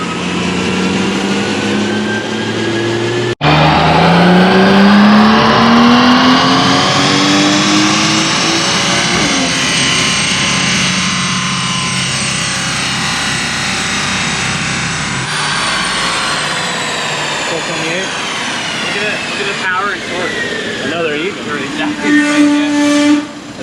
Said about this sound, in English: we're gonna get on the dyno now and see what the difference is